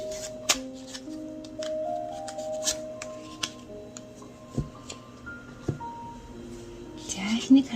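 Tarot cards shuffled and handled by hand, soft riffling swishes and a few sharp snaps and taps, quiet and close, with a faint tonal musical background underneath.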